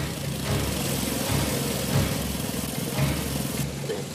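A sand crawler vehicle's engine in a retro cartoon drones steadily at a low, rumbling idle-like pitch, a continuous mechanical hum with slight swells throughout.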